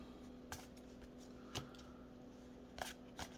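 Magic: The Gathering trading cards from an Innistrad: Midnight Hunt set booster, shuffled and tidied into a stack, making a few short, quiet riffle-like flicks and snaps over a low steady hum.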